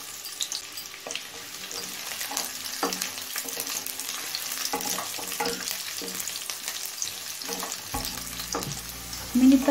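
Potato and carrot pieces fry in hot oil in a pan with a steady, close sizzle. Intermittent scraping stir strokes break it up, and a louder clatter comes near the end.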